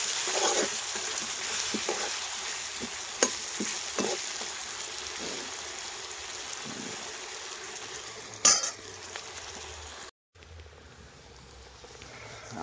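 A fish curry with potatoes, onion, garlic, ginger and spices fries in oil in a pan, a continuous sizzle with occasional stirring clinks and scrapes, close and moderately loud.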